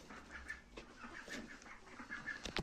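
Hens in a backyard hen coop where they lay eggs, giving faint, scattered clucks and soft calls at low volume with no voices.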